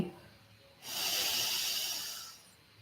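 A deep, steady inhale during a yoga-style breathing exercise, an airy rush of breath that swells for about two seconds and fades, close to the microphone with no talk over it.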